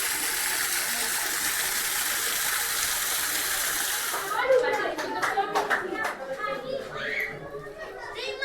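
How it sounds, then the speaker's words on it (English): Rushing water at a waterfall in Sintra, a broad steady roar that cuts off partway through, leaving children's voices, splashes and scattered claps nearby. "let's go here to the waterfall and have a look"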